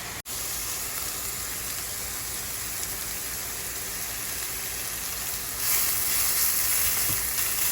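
Vegetables for a green peas egg masala sauté in a pan, producing a continuous, even frying hiss that stays close and steady and swells slightly near the end, with no voices.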